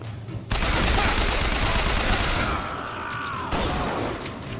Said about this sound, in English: Point blank shotgun to the face didn't do anything, huh?